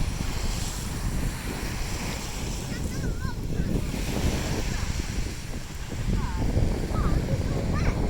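Surf washes onto a beach in Valencia, Spain, a constant broad wash of waves with heavy wind buffeting the microphone and faint distant voices and bird calls.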